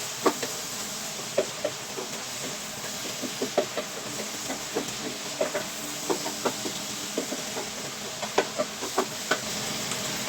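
Minced garlic and vegetables sizzle in a hot pan as they are stirred, with a steady frying hiss under repeated sharp utensil knocks and scrapes against the pan in an irregular rhythm.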